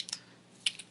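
A few soft, scattered computer keyboard keystrokes, faint and close, with a long pause between the first taps and a final short cluster.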